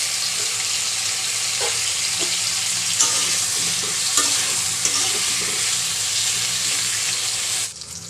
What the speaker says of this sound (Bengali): এখন তেল দিয়ে দেবো অল্প একটু পটলগুলো দিয়ে দেবো দিয়ে ভেজে নেবো